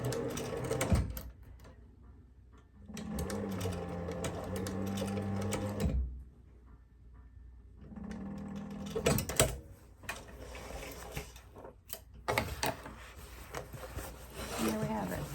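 A Techsew 2900 leather and cobbler sewing machine back-tacks through multiple thicknesses of leather for a sewn-on patch. Several short mechanical bursts of rapid stitching sound close by, separated by quiet pauses, and someone speaks softly between them.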